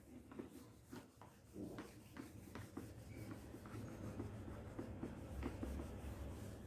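Eraser rubbing across a whiteboard after a linear programming lesson, a continuous close scrubbing with rhythmic back-and-forth strokes and faint squeaks, fairly quiet throughout.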